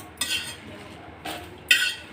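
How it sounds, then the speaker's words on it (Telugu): Metal spoon scraping and clinking in a pan while frying ingredients for gongura nilava pachadi, three short stirring strokes separated by quiet gaps, close and crisp with faint sizzle beneath. "ఇలా మంచిగా కలుపుకుంటూ వేయించాలి."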